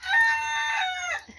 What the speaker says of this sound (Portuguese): Tem os peru aqui e tem galinhos.